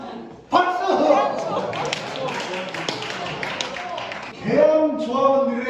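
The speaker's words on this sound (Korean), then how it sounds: "박수!" Union members at an education session break into clapping, with chatter and laughing voices over the applause.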